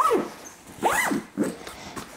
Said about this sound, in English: The zippers on the main compartment are YKK, and they're pretty big.